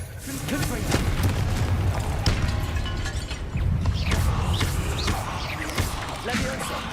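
Confringo blasting spell explosions in Hogwarts Legacy, several booming bursts with rumbling low end and crackling debris, spaced a couple of seconds apart over continuous game ambience, with a voice speaking briefly.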